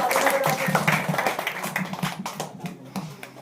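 A group at a Class 12 students' farewell celebration claps to welcome a student, a brisk burst of scattered hand claps that thins out and fades toward the end, with some voices underneath.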